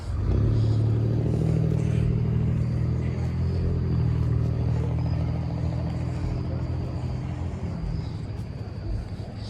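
A Honda car idles and rumbles at an outdoor Sunday car meet, a low steady engine drone close by that eases off slightly toward the end.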